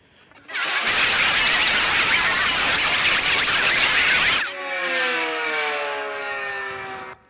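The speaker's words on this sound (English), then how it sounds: "I use white noise all the time for different stuff." Loud broadband white noise hisses for about four seconds, then cuts to a quieter hissing layer with rising and falling tonal sweeps.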